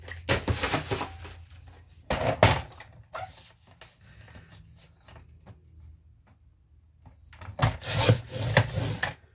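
Paper being cut for a handmade hybrid journal, a few short scraping and slicing strokes in bursts with quiet gaps between, close up and fairly soft.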